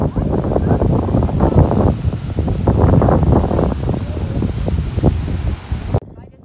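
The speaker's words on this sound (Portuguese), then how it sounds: "Não sei se vocês estão me ouvindo porque tá ventando demais." Strong gusts of wind on Fernando de Noronha batter the microphone with heavy, buffeting rumble and rustling, almost continuous until a sudden drop near the end.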